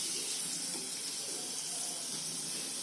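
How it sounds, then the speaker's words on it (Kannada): Peini dough frying in hot oil gives a steady, dense sizzling hiss that stays loud and continuous throughout, with no talking. "Now we'll add this into the oil."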